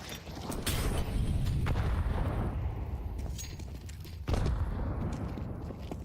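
Grenades exploding in a Counter-Strike match at a professional ESL Pro League game, heavy low booms and rumble layered over continuous game noise, with a fresh blast landing near the end.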